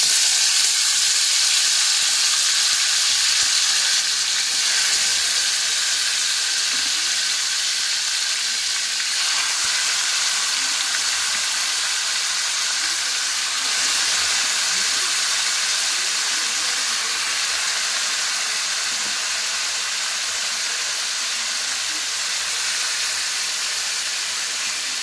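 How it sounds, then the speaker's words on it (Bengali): Meat is added to a hot, spattering pan and fries with a constant loud sizzle, a bright, dense hiss that carries on steadily throughout with no talk. "এবার আমি এর মধ্যে আস্তে আস্তে মাংসটা দিয়ে দিচ্ছি।"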